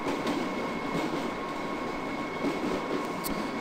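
A London Underground C Stock train runs steadily in the OpenBVE simulator on the District Line, giving a continuous rumbling rail drone with faint wheel and motor tones, no speech.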